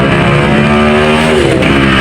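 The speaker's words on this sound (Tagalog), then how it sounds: "Grabe ingay ng sasakyan." Loud street traffic in a busy neighborhood: cars and motorcycles rumble and rev close by, a dense, continuous engine drone with a rising whine that dominates the scene.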